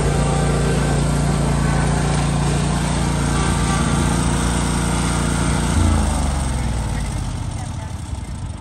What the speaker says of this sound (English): How many did you mow today so far, Wes?